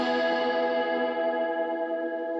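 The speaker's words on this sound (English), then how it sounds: "throw in some woozy guitars with a ton of spring reverb" A sustained, wobbly electric guitar chord rings out drenched in spring reverb, shimmering and slowly decaying, with no voices.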